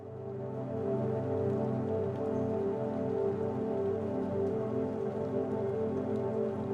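Steady rain falling in a video game, a constant even patter with a dense hiss that holds at the same loud level throughout, with no talk over it.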